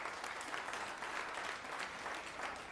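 A comedy audience claps in a dense, steady round of applause after being asked a question by the comedian, many hands clapping together at moderate, even volume without any talking.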